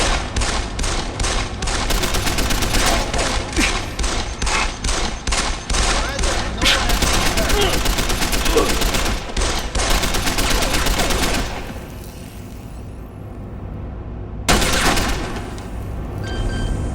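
Sustained rapid gunfire from the video game Deus Ex: The Fall fills the scene with loud, dense overlapping shots, drops to a quieter lull near the end, then a final burst erupts.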